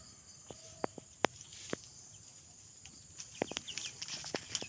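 Week-old chicks on a farm, raised without a mother hen, give scattered faint peeps and chirps, a few sharper calls standing out over a quiet background.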